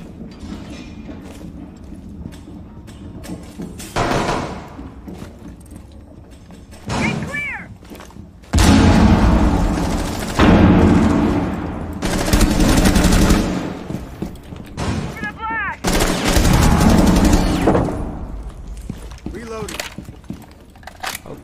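Gunfire in the video game Rainbow Six Siege, several loud bursts of automatic fire and thuds spread across the stretch, close and punchy, with someone talking excitedly in between.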